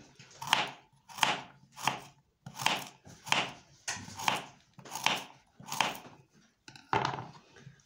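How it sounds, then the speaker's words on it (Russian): A knife slices a carrot into thin rings on a cutting board, about ten crisp, evenly spaced cuts in a steady rhythm, close up with no talking. "Морковочку я буду нарезать колечками."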